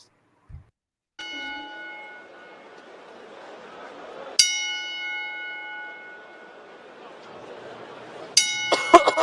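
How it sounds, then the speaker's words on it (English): Ten-bell salute struck at a memorial, each bright metallic bell ringing out and sustaining with a long shimmering decay before the next strike, three strikes heard here with the last followed by quick overlapping clinks; faint murmuring in the room beneath. "we have a 10-bell salute"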